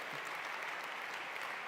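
Audience applause after a talk at the re:publica 2018 conference, on stage 2: dense, steady clapping from a large crowd filling the whole moment without a break.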